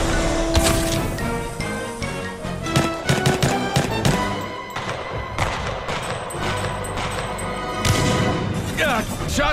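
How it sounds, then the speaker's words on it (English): Rapid gunfire in a video game, dense bursts of shots and heavy thuds hammering continuously and loudly, layered with busy music and other game sounds, with a voice speaking over the top. "shots fired and they're hitting me"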